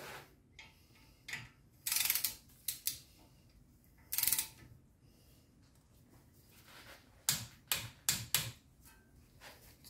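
A torque wrench ratchets in short clicking bursts while tightening the front brake rotor hold-down screw on a VW Touareg, crisp, close, separated by quiet pauses and a few softer mechanical taps.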